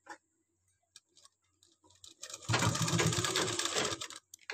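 A sewing machine stitches piping onto a blouse, starting with a few scattered clicks and taps, then a loud, close burst of fast whirring for about two seconds before it stops.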